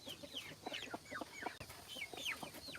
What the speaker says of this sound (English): I am not believing that I've got a baby chicken.